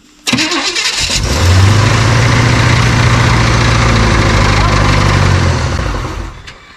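A small-block Chevy 350 V8 cranks briefly, catches and settles into a loud, steady rumbling idle nearby, then cuts off near the end.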